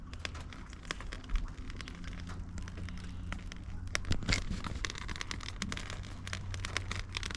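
Mesquite wood chips crackle and pop in a grill fire while cooking chuck steaks, a dense run of sharp little snaps and crinkles over a steady roar, with occasional louder pops close by.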